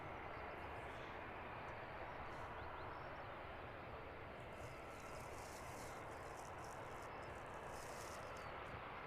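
An arriving airliner at London Luton Airport roars in a broad, steady wash of engine noise that stays loud and constant throughout.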